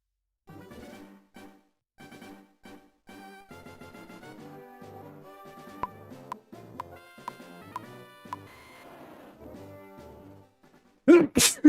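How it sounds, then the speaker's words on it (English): A single sharp human sneeze bursts out right at the end, loud and close, after a stretch of soft tonal game music. "That threw me off, the sneeze."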